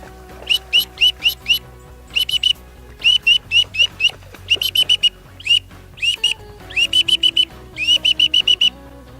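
A person repeatedly imitates a duck's landing call with a call or whistle, the sound ducks make coming in to land, giving bursts of rapid, high chattering notes separated by short pauses.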